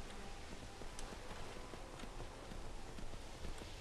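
A horse's hooves clip-clop in Skyrim Special Edition, a steady rhythmic patter of hoofbeats at moderate distance over a soft ambient wash.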